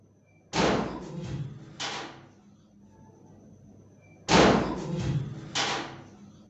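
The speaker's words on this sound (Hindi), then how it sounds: "दरवाज़ा बंद होने की आवाज़ आई है" A door closes twice in a quiet room, each time a close, sharp thud followed by a quick second knock against the frame, with a few seconds of silence between.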